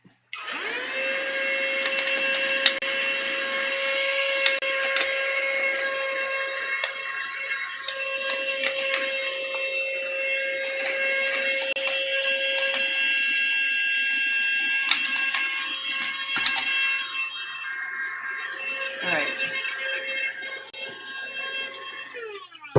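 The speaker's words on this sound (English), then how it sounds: "I'm just going to vacuum in there too." A mini vacuum cleaner runs steadily up close while cleaning inside a Featherweight sewing machine, giving a continuous high-pitched motor whine and airflow hiss with small clicks and shifts in tone as the nozzle moves.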